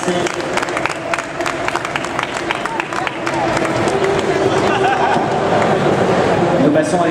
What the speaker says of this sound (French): Et des applaudissements pour Shirley, merci.